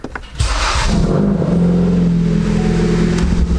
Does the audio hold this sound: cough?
no